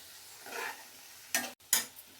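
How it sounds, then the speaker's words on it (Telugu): A spoon scrapes and stirs tomato pieces through methi curry in a pan, a soft shuffle followed by two brief, sharper scraping strokes against quiet background sizzle. "టమాటా ముక్కలను కూడా బాగా కలిపి కాసేపు ఉంచుదాం."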